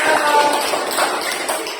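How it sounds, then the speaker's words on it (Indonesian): A group claps in a school gym class during a forward-roll lesson, a steady close patter of overlapping handclaps with no talking. "Gus, tepuk tangan"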